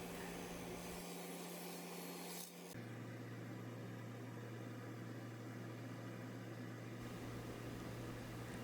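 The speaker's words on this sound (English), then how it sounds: "The lathe is at about 900 RPM at this point" A wood lathe turning a bowl at about 900 RPM gives a steady, smooth whirring hum with a faint rasp of a bowl gouge, shifting in tone partway through and continuing evenly throughout.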